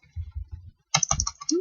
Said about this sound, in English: for this one I'm going to type it